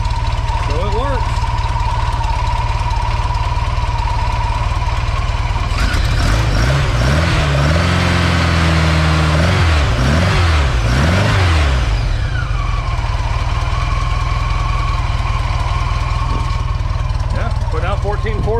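Volkswagen engine fitted with a GM one-wire alternator, running loud and close at a steady idle, with a surge of cranking and revving in the middle before settling back to idle.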